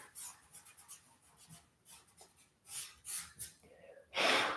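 A pastel stick rubbed across paper: short, dry scratchy rasping strokes in an irregular rhythm, close and fairly quiet, with a louder burst of scraping at the end.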